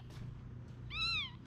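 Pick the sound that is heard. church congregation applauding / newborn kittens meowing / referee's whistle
newborn kittens meowing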